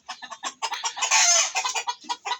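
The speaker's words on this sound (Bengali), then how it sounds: "এই কয়েকটা মুরগি আছে, 7টা মুরগি আছে, একটা মোরগ আছে" A small flock of seven Egyptian Fayoumi hens and one rooster cluck close by in a rapid, busy series of clipped calls, with one louder, drawn-out squawk in the middle.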